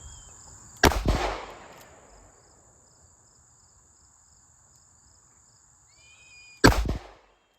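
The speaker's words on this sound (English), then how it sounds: "so now we get a full cylinder, 5 shots of the 158 grain 38 special" Two sharp, loud reports from a revolver firing 158 grain .38 Special rounds, about six seconds apart, each trailing off into a short echo. Insects chirp steadily in the quiet outdoor background.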